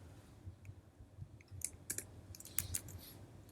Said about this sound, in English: I type here